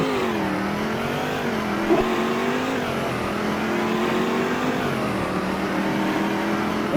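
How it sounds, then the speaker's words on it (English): Steady, loud engine roar from a car doing a burnout in Roblox Greenville, holding a revving drone with slight pitch wavering throughout and no voices. "I'm gonna do a burnout."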